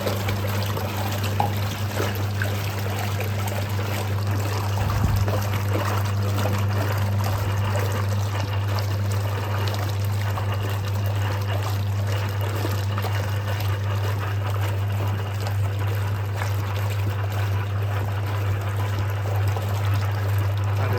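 Liquid detergent trickles into a running Simpson wringer washing machine, a soft pour over the machine's steady low motor hum and wash churning, continuous and close with no talk.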